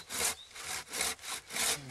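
A hand saw cuts through wood being shaped into a wooden spoon, four steady rasping strokes in an even back-and-forth rhythm, close and clear with no talk.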